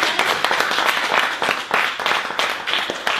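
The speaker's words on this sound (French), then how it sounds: "On applaudit." Audience applause at a personal-development conference talk, a steady patter of many hands clapping with swelling bursts and a few sharper claps standing out near the end.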